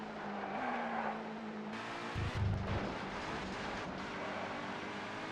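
A Lister Storm race car in the ToCA 2 touring car game slides across a wet track, its engine droning steadily and tires hissing over spray, with a brief louder burst of scraping or bumping midway and no talking.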